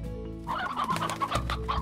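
Chickens clucking in the video game Slime Rancher, a dense overlapping flock of clucks and squawks, loud and close, continuous over a low steady game hum.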